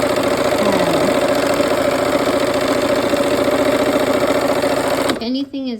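A sewing machine stitches a sashing strip onto a pinwheel quilt block, its motor whirring in a steady fast hum that stops abruptly near the end, with talking over the sound.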